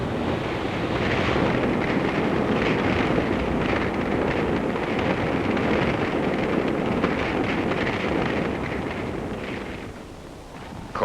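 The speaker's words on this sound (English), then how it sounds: "Sawtooth wind. 20 freezing degrees below." Freezing winter wind in Korea, twenty degrees below zero, roars steadily and loudly across the microphone for the whole stretch, easing slightly near the end, with no voices.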